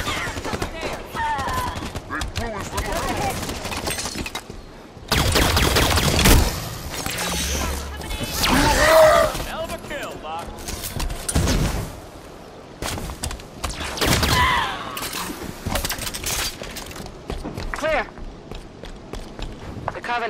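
Rapid bursts of gunfire from the video game Halo 5: Guardians, with loud volleys interrupted by pauses amid game sounds, while voices talk over the action.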